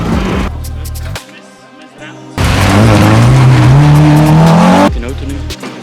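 A rally car driven fast on a wet stage, with a loud in-car engine roar that rises and swells, tires squealing, and quieter stretches before and after the burst.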